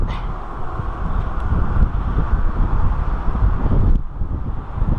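Strong wind buffets the microphone in a continuous, gusting low roar, easing briefly near the end.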